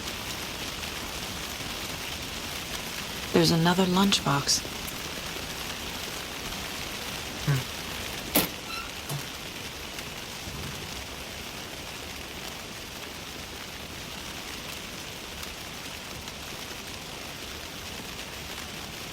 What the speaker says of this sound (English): That is Washington too, just constant rain.